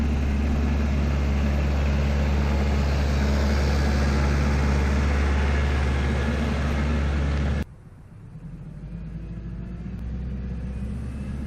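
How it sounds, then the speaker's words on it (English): A four-wheel-drive tractor with tire chains and its differential lock engaged climbs a driveway, its engine a loud, steady low rumble that drops abruptly to a quieter drone partway through. "You can see the tractor comes up the driveway with ease with the chains on."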